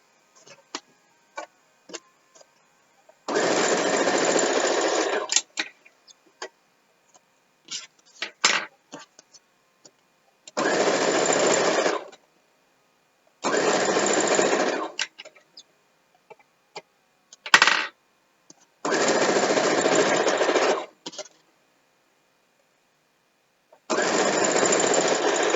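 Sewing machine stitching quilt pieces together for a queen-sized quilt, five separate bursts of rapid mechanical whirring, each lasting a couple of seconds, separated by quiet gaps filled with small clicks and handling noises.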